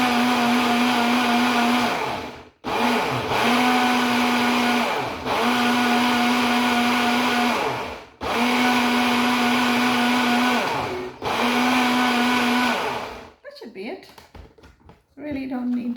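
A kitchen blender pulses thawed frozen blueberries in five loud, whirring bursts of two to three seconds each, separated by short stops, then quiet clatter at the end.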